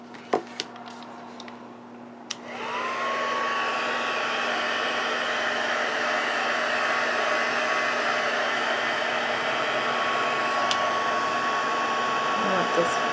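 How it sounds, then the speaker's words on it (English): A heat tool dries watercolor on a paper card, switching on after a few faint taps and then blowing a steady, close, high whine that continues to the end. "I'm going to bring my heat tool back in"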